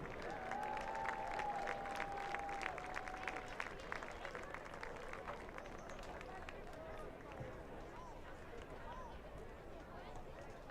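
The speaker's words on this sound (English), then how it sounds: "Let's give a round of applause" Sustained applause from a crowd at a high school senior recognition during a varsity football game, steady and moderately distant, with a faint voice and a brief tone near the start.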